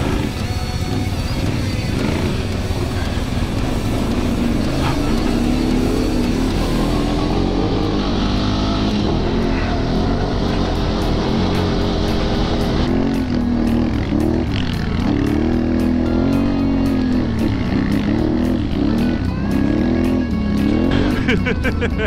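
Can-Am Renegade 1000 XXC ATV riding in fourth gear, its engine droning loud and steady throughout at a near-constant pitch, with slight rises and falls as the throttle shifts. No talking.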